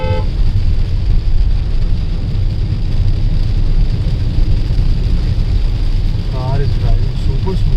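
A 2020 Hyundai Creta EX drives along a rough road, its engine and tyre noise forming a steady, loud low rumble, with a brief horn-like toot near the end.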